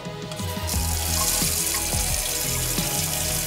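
Warm water runs steadily from a kitchen tap, a loud, continuous close splashing stream that fills the whole moment with no talking.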